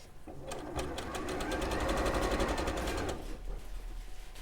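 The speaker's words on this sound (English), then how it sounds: "this is how you sew it to be a continuous loop with no raw edges showing" A sewing machine stitching a jersey fabric skirt into a continuous loop runs in a fast even rapid-fire hum for about three seconds, close and clear, then stops, with faint talk nearby.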